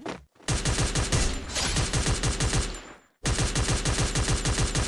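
Bursts of G36 assault rifle fire in a video game, loud and close, in rapid rhythmic volleys with a brief pause before the shooting resumes at full rate.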